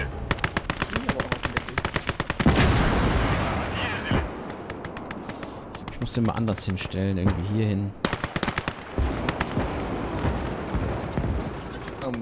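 Rapid machine-gun bursts and gunshots in the World War II video game Gates of Hell, loud and repeated in rattling volleys with short pauses, while someone talks over the shooting.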